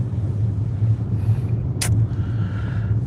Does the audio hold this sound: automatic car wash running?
yes